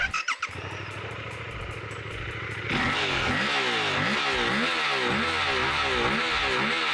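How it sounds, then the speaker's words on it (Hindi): A Suzuki GSX-8R middleweight supersport motorcycle idles with a steady, loud exhaust note, then revs repeatedly in rising and falling blips, close and alone. "बाइक का जो एग्जॉस्ट नोट है वो भी आपको एक बार मैं सुना देता हूं।"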